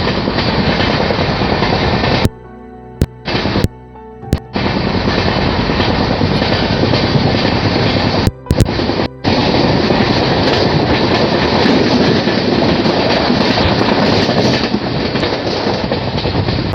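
The Kamakhya Capital Express passenger train runs steadily on the rails with a loud, continuous rumbling roar and rhythmic wheel clatter, broken by a few brief sharp dropouts, with no voices.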